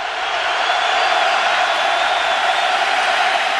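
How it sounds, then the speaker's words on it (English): The Cornhusker crowd at a Nebraska football game against Iowa State roars in a loud, continuous wall of cheering that fills the whole moment. "And listen to this Cornhusker crowd."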